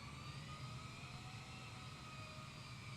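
An airplane taxis in Microsoft Flight Simulator, its engine giving a steady, even whine and hum with no pauses and no voices.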